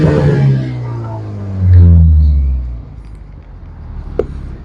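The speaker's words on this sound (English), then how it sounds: "The exhaust is nice. You guys will be hearing a clip about it." A Toyota Supra exhaust, loud and close, with a deep rising and falling rev that swells mid-way then settles to a quiet idle, ending with a sharp click.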